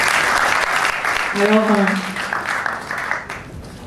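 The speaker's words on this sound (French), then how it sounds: "J'aimerais qu'on l'applaudisse." Audience applause at an engaged-art concert opening at a French cultural institute in Douala, Cameroon, a steady clapping wash throughout, with someone speaking French over it.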